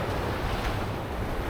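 Waves break on a pebble beach at Baekseok harbour in Yeongdeok in early winter, a loud, continuous wash of surf mixed with wind buffeting the microphone, with no talk.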